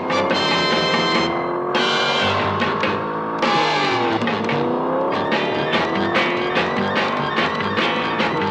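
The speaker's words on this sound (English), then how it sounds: "of the theme is drowned out by the roar of the Batmobile." Roar of the Batmobile over the 1968 The Adventures of Batman cartoon theme music, a sustained loud revving engine with rising and falling pitch sweeps filling the whole stretch, layered over the dense orchestral theme.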